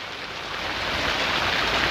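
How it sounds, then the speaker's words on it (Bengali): Rain falling outside a Kumartuli workshop in Kolkata where Durga idols are made, a steady, even wash of hiss with no distinct drops, continuous and moderately loud. "বাইরে বৃষ্টি পড়ছে"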